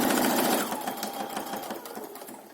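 Sewing machine stitching a fabric face mask with a thick needle, giving a fast, even run of close mechanical clatter that eases off slightly toward the end.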